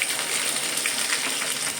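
Chopped green chili dropped into hot ghee for a tempering with cumin, giving a steady bright crackling sizzle throughout, close and fairly loud with no voice over it.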